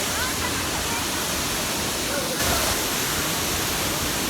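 Cascada La Plata, a waterfall near Ibagué in Tolima, Colombia, gives a loud, continuous broadband rush of falling water with no pauses.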